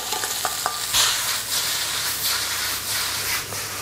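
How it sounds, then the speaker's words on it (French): Noodles go into a pan of frying shrimp pad thai, setting off a steady loud sizzle and hiss with stirring scrapes near the start. "Après quelques instants, on rajoute nos nouilles."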